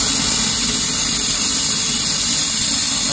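A steam injector under test with its steam valve closed gives a steady, loud hiss with a high whistling tone, continuous and close throughout.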